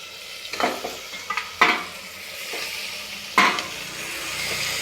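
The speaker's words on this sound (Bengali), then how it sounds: "তো চিকেনটাও আমি কিছুক্ষণ বেশ নাড়াচাড়া করে নেবো" Chicken stirred in a hot pan, cooked in the style of mutton in a pressure cooker pot: a steady close sizzle broken by several sharp scraping strokes of the spoon.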